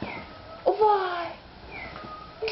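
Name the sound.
cat meowing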